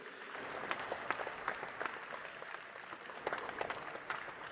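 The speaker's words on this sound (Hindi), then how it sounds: "तालियां हो जाए इनके लिए भी।" Applause from the audience at a Pro Panja League armwrestling event, honouring a competitor's father on stage: dense, steady clapping with sharp individual claps standing out, fairly distant and sustained throughout.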